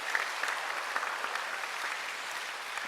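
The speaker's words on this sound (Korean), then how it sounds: "한번 힘차게 박수 한번 하세요." A church congregation at a Sunday service bursts into sustained, dense applause, many hands clapping together in a steady wash of sound that stays even in loudness throughout, with no talking over it.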